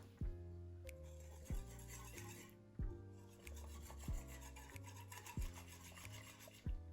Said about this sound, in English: After all of your flour has been sifted, just go ahead and whisk that up.